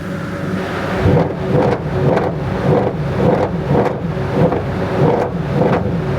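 A Mercedes-AMG car engine is blipped repeatedly while stationary, producing a series of rhythmic rising and falling revs about every half second, loud and close, with no talk.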